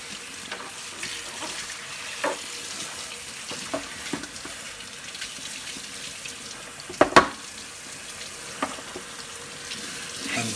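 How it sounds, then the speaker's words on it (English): Running tap water rinsing soap off Hoover Junior Dirtsearcher vacuum cleaner parts in a sink, a steady close splashing hiss with occasional louder splats and knocks as pieces are handled. "Let's rinse it, final rinse. Make sure you get rid of all the soap."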